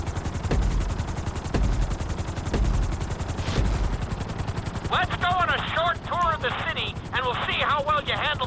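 Helicopter rotors thump steadily during a flight lesson in Grand Theft Auto V, a rhythmic chopping drone, with a voice speaking over it and bursts of bright chirping tones toward the end.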